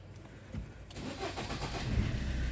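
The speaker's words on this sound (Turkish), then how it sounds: "Ve aracımız çalışıyor." A 2012 Fiat Doblo is started with its start-stop button: a short cranking whir catches and the engine settles into a steady idle, close by and with no talking.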